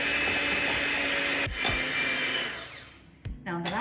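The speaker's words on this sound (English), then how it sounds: "And we start whisking again." Electric hand whisk beating chocolate traybake batter with added melted chocolate, a steady loud motor whine that dips and restarts partway through.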